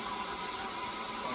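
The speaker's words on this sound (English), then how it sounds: "It's the sound of the water going" Water rushing into a newly installed electric water heater tank, a faint, steady broadband hiss and rumble that holds evenly throughout with no voices.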